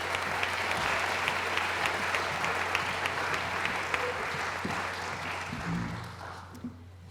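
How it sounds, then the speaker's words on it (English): An audience at a ceremony claps steadily to welcome a speaker, a dense, even applause that tapers off near the end. "An applause, please, for Ana."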